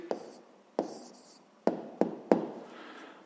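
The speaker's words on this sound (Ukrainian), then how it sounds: "записуємо відповідь" A pen writes an answer on paper in a few separate bursts of scratching, each starting with a tap, close by and fairly quiet, with short pauses between them.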